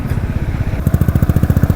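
A motorcycle engine running while being ridden, a loud close rhythmic thumping chug that speeds up and sharpens partway through.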